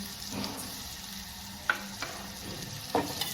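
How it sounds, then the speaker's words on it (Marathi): Onion sautéing with salt in a pan, a faint continuous sizzle with a few scattered scrapes and taps of the spatula against the pan, quiet and close. "आता कांदा हा आपला चांगला परतू देऊया."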